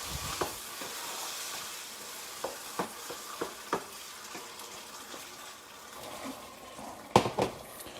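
Ziti and ground pork with pasta sauce sizzle softly in a skillet. Scrapes and clacks of stirring cut through at irregular intervals, close and moderately quiet.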